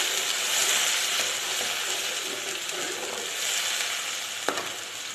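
Onions sizzle steadily in a pan for chicken biryani while a spoon stirs and scrapes through them, ending with a single sharp clink.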